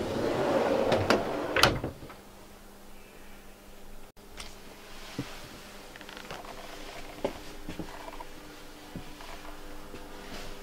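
A door in a 2019 Carthago chic e-line I 51 QB motorhome swings shut with a couple of loud knocks and a latch clatter at the start, then faint interior rattles and taps follow, with no talking.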